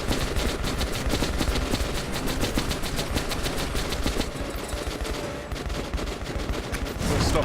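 Sustained rapid automatic gunfire in Metro Last Light Redux, loud and close, firing in fast, even bursts for several seconds with only a brief lull before resuming.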